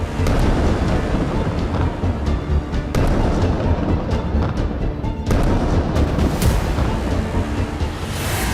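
A barrage of more than sixty missiles strikes the Meron air surveillance base in Israel, a dense, loud, continuous roar of blasts and rumbling with a few sharper booms.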